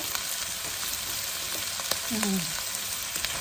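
Meatballs stir-fry in a pan for seafood drunken noodles, a steady hiss of frying filling the background with a few soft scrapes and a brief tonal squeak near the middle.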